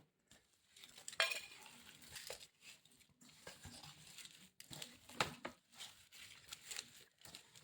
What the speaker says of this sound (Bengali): এবারে এইটা এতেই মিশিয়ে নেব